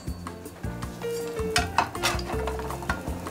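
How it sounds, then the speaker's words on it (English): Quail egg frying in hot oil in a pan, with a steady sizzle and bubbling under clinks and scrapes of a utensil against the pan. "And as it's cooking, I have hot oil."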